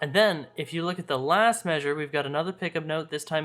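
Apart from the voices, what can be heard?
No everyday noises stand out.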